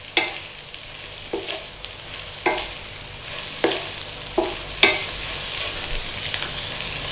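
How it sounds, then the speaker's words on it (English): Scrambled eggs gently folded and cooked in a pan, a soft steady sizzle broken by periodic scraping strokes of a spatula every second or so, close and without talk. "Just gently fold. And all we're doing is cooking that rawness off those eggs."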